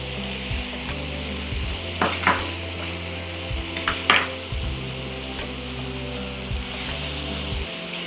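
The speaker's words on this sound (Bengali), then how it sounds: "চিকেনগুলো নাড়াচাড়া করব যতক্ষণ না রং বদলায়।" Thinly sliced unmarinated chicken frying in a pan for a Thai chicken mango curry, with a continuous close sizzle and occasional stirring clatters, no talking.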